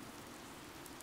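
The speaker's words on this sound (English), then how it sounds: "Oddly, the rain has come to fall yet again." Rain falling in the Fire Emblem: Three Houses video game, a soft, steady hiss of drizzle at a quiet level without distinct drops, with no talk.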